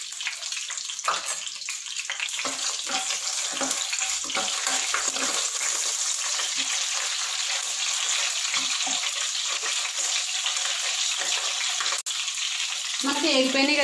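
Whole spices such as cinnamon, star anise and cloves frying in hot oil in a pan for bagara rice, a steady loud sizzle with a few light clinks, running continuously.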